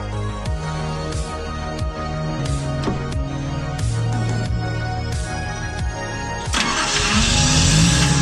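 A Datsun 280ZX engine starts and settles into a steady idle, with a mid-pitched running drone carrying several sharp clicks and knocks and growing a little louder near the end.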